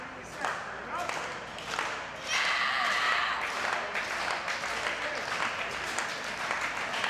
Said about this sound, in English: The crowd firmly behind Lufisto, rallying behind the wounded Al Ronan